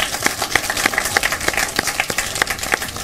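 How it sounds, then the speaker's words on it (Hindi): An audience clapping loudly, a dense, steady burst of applause from many hands with sharp individual claps audible throughout, close and continuous. "ताली बजाइए जोर से एक बार।"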